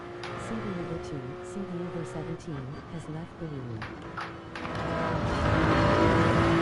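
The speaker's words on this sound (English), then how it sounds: "We're definitely carrying more speed, but we over-revved the Supra, which is not great." A Toyota Supra in the Gran Turismo 7 racing game revs repeatedly through rising and falling gear sweeps, swelling louder toward the end as someone comments over it.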